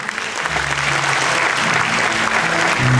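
A crowd applauds students being introduced one by one at an event, steady loud clapping filling the room, with a low voice murmuring faintly underneath.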